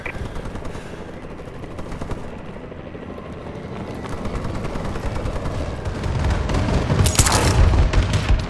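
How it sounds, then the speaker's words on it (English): Friendly bombing run in Call of Duty Advanced Warfare on the Atlas Gorge map, a dense, continuous rattle of gunfire and explosions that builds in loudness, with heavy booms toward the end. "Friendly bombing run incoming."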